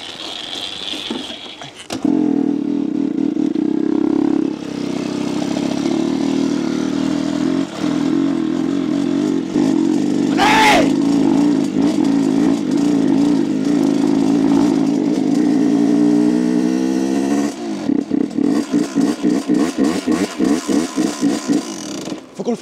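A moped fitted with an 86cc Top Alu kit, damaged during a road trip across France, fires up and holds a loud, steady buzzing drone close by, then breaks into choppy, pulsing revs near the end.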